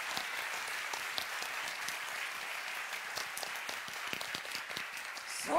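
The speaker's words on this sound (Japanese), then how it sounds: "皆さん拍手です" Classmates and audience applaud at a public calligraphy class, a soft, steady wash of clapping heard from a distance at low level, with a brief louder bump at the end.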